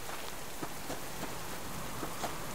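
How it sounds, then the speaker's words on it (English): Rain in the survival video game Subsistence, a steady even hiss of falling rain with scattered soft droplet taps, moderately quiet and continuous with no talking. "Why did it have to rain?"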